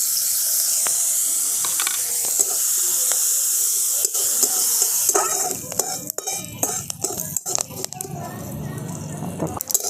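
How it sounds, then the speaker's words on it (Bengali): Curry leaves go into hot oil with spluttering mustard seeds for a tempering, giving a loud, steady sizzling hiss that turns into sharp crackles and pops with occasional clinks of a utensil against the pan. "দিয়ে দিচ্ছি কতগুলো কারি পাতা।"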